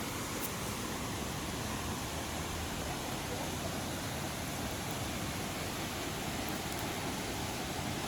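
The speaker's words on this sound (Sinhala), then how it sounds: "දිය ඇල්ලේ සද්දේ හොඳට ඇහෙනවා." Huluganga Ella waterfall in Sri Lanka, in heavy flow and heard from close by, gives off a steady, even hiss of cascading water with a low rumble beneath and no pauses.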